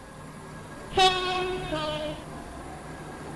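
A non-stopping train horn sounds loudly once on a video-game railway platform, a sharp harmonic blast that fades into a second, softer tone as the train rolls past.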